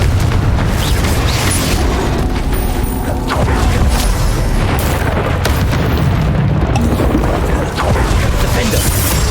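Confringo fire spell blasts in Hogwarts Legacy, loud booming explosions and crackling bursts layered densely through a combat scene, with voices shouting over the din.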